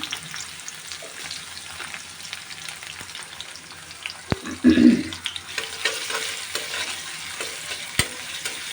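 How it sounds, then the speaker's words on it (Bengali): Chopped onion frying in oil in a kadai for a puti fish dish, a steady close sizzle with stirring scrapes and a brief louder clatter midway, no voices. "পেঁয়াজটা একটু ভেজে নেবো"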